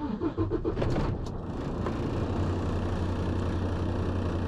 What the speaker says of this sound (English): So what you want to do is start your tractor.